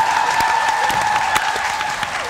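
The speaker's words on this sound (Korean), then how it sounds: "지금 이 자리에 서 계신 여러분께 박수를 보내고 싶습니다." An audience at a staged energy-saving contest show applauds in a dense, continuous patter of many hands over a faint steady tone, with a few sharper individual claps standing out.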